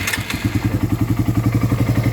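A Raider 150 motorcycle engine with 68,000 on the odometer catches after a brief crank and settles into a steady, rapid, loud idle thump close by.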